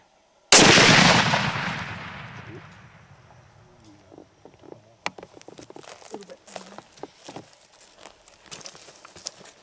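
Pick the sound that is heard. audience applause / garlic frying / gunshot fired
gunshot fired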